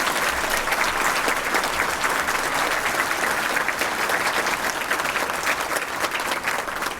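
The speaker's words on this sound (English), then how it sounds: "How about another round of applause for all of our honorees today?" A dense, steady round of applause from a seated crowd at an alumni luncheon, holding evenly at full strength throughout without any talking over it.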